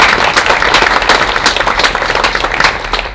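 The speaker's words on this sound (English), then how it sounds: "How about a nice round of applause for Bruce?" An audience at an awards brunch applauds, a dense, loud, steady wash of many hands clapping that continues throughout.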